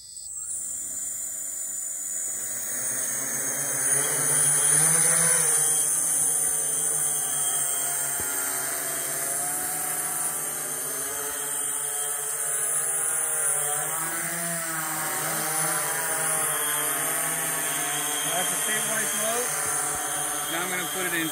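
A DJI Spreading Wings S1000+ octocopter arms its motors and lifts into flight, a steady multi-rotor whine and buzzing drone that shifts in pitch as it hovers, close and loud throughout.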